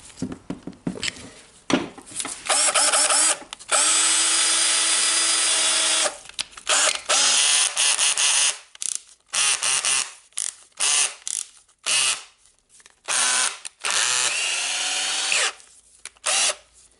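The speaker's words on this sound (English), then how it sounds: "this drill is in good working order now" A Makita DDF343 14.4V cordless drill whirs in repeated bursts, some long and steady, others short stop-start triggers, loud and close with brief silences between.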